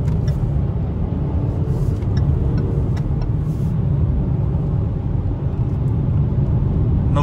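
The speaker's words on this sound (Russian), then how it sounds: "Сейчас мы совершим обгон." Land Rover Discovery Sport overtaking on the road, heard from inside as a loud steady rumble of engine and tyre noise with a few faint clicks, no talk.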